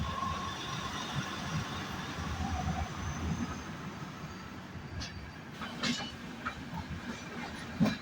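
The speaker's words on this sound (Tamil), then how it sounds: "இப்போ நம்மளை கிராஸ் ஆகி போயிட்டு இருக்கிறது Coimbatore Bangalore double decker express." Coimbatore–Bangalore double-decker express train passing alongside, a steady low rolling rumble with faint rhythmic clatter and occasional brief metallic squeals, moderately distant.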